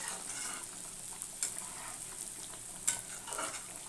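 Chicken kosha cooking down in a pan, a soft, fairly quiet sizzle with a few sharp clinks and scrapes from stirring, and no speech.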